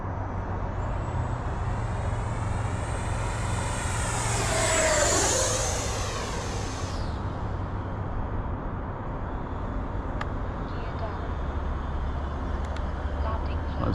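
An FMS Avanti 90mm electric ducted-fan RC jet makes a high-speed pass, its whine rising and falling sharply as it sweeps by and fades, heard from the ground over steady background noise, with a person talking.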